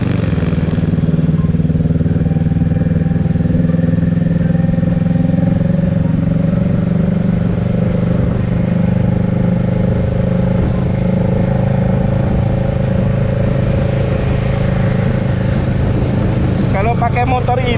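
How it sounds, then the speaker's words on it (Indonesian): A motorcycle hums steadily on a Jakarta road heading toward the toll road to Bandung, its engine drone and road rush continuous throughout while a rider's voice talks over it. "Pakai motor ini guys enak banget"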